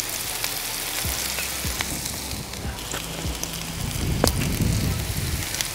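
Smashburger patties seasoned with garlic powder, onion powder and Montreal seasoning sizzle steadily on an outdoor Blackstone griddle, with a spatula scraping and clicking against the steel now and then, and wind faintly in the background.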